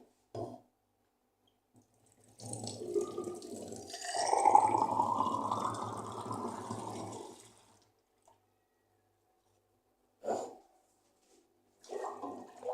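Tap water pours into glasses for boiling eggs, a rushing, splashing fill lasting about five seconds that swells then eases, preceded and followed by brief clinks or handling sounds in a quiet kitchen.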